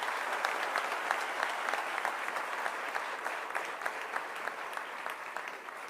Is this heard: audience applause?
yes